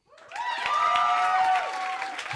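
A comedy club audience answers with a short burst of clapping and voiced whoops that rise quickly, hold for about a second and then thin out.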